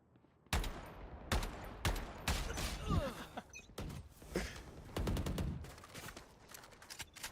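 Video game gunfire in sharp, loud bursts of shots, irregularly spaced with a few short rapid volleys, alongside mechanical creaks and clatter.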